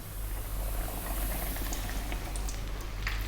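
Battered fish fries in a pan of hot oil, giving a steady close sizzle and bubbling hiss with scattered small pops and crackles throughout, no voices.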